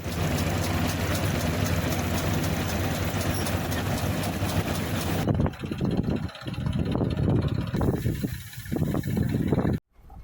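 Pramukh groundnut thresher engine running, a loud steady mechanical roar for about five seconds, then a rougher, rattling stretch with knocks and thumps before it cuts off briefly near the end.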